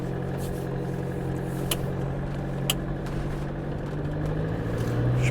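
A 2001 Lunar Roadstar 630 motorhome with a 2.8 diesel engine pulls away, its steady low diesel drone rising slightly as it moves off, close and clear, with a couple of faint clicks.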